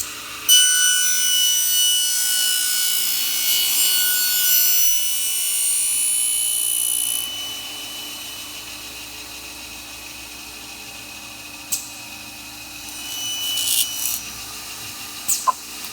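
A single-head end milling machine cutting an aluminum profile with a harsh, high-pitched grinding whine for about seven seconds, then a quieter motor hum with a few short clanks.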